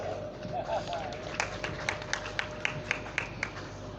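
Audience at a ceremony in Darya Khan clapping to welcome the circle DSP, a burst of steady rhythmic claps from a nearby crowd after a man's speech at the start.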